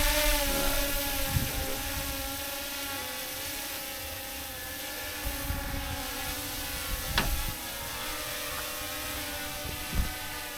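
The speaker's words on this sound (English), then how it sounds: "He gets the drone and the claw lifts it up." Drone with a claw attachment hovers nearby in a steady, loud buzzing whine that holds throughout, with wind noise and occasional knocks underneath.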